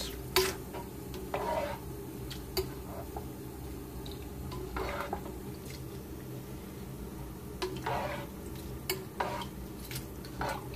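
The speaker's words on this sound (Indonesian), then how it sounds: "Kita aduk, aduk guys" Turmeric rice stirred in a pot, soft scraping and squishing strokes at irregular intervals over a low background hum, quiet and close.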